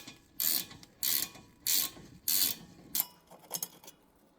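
Ratchet wrench loosening a 13mm caliper slide pin bolt on the rear brakes of an S197 Ford Mustang, giving five quick close bursts of clicking pawl ratchets, the last ones shorter and lighter, with no talk.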